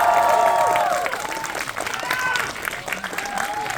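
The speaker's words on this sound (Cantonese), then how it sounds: "嚟拍手，嚟繼續拍手" A cinema audience at a private screening event claps and cheers as a film star is welcomed, a thick crowd roar of applause with excited shouts mixed in and people talking over it.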